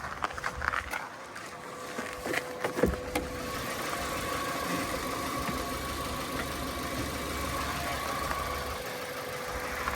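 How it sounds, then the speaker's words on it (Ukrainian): A Hyundai Tucson 2.0 engine idles steadily with a low, even hum, joined by a few brief clicks and knocks early on. "Давайте подивимось роботу двигуна."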